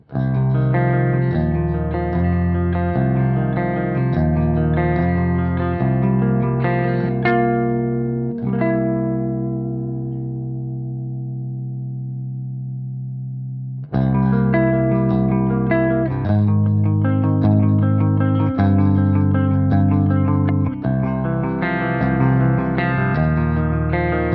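Distorted electric guitar played through Mesa cabinet impulse responses captured with 121 and SM7 microphones, chunky chords and riffs, loud and steady, ringing out on a sustained chord midway before the playing resumes.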